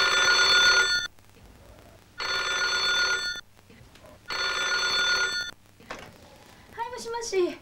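A Yupiteru cordless telephone rings in a 1990 Japanese local commercial: three loud trilling bursts separated by short pauses, followed by a voice answering.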